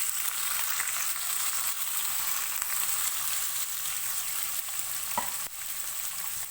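Finely chopped onions, five medium ones, fry lightly in hot oil, giving a steady, even sizzle that runs unbroken throughout with a faint stir or clink near the end; no one speaks.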